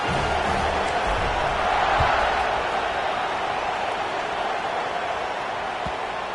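Football stadium crowd at an NCAA game just before kickoff, a steady broad roar of many voices filling the space, loud and continuous with a slight swell early on.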